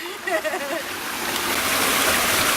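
Floodwater rushes through a creek channel that has been blasted wide along the Kaymoor Trail, a steady broadband roar that builds slightly louder, with a brief faint voice near the start.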